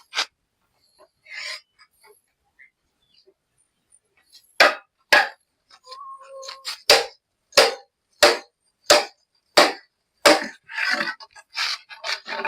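Steady hammering on a goat house under construction: a run of sharp, close strikes in a fairly even rhythm after a few scattered knocks, loud and near, with faint background sounds and no talk.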